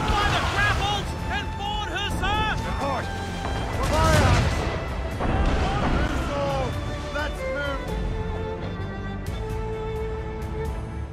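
Warship cannons in a naval battle against a Royal Navy schooner in the video game Assassin's Creed Rogue boom in a rolling barrage, heavy blasts mixed with splashes and creaking, while voices shout commands over the din.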